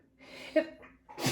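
A single close sneeze with a short inhale building into a sharp burst, followed by a brief breathy noise at the end.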